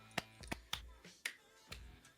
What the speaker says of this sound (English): Hand clap of praise.